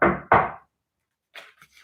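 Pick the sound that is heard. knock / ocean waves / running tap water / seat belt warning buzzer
knock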